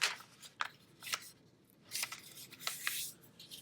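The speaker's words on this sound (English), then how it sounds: "We're going to fold it in half." Paper being folded in half for a cut-paper four-leaf clover craft, heard as several short, crisp crinkling and creasing rustles in quick bursts, close and fairly faint, with no talking.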